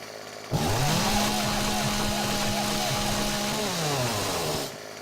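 A chainsaw in the video game 7 Days to Die cuts down a 1,000 hit point tree, its engine roaring loud and steady for about four seconds before cutting off.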